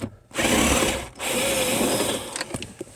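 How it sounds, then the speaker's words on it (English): A 1/4-inch drive ratchet removes a screw from a vehicle's vent and louver area, making a steady close-up buzzing whir that cuts off briefly and then runs on, ending in a few sharp clicks. "now that we got that 1/4 inch drive installed, let's go ahead and get that screw removed"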